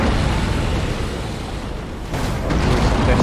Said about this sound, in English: Nova cannons.